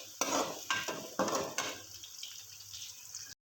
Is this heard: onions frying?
yes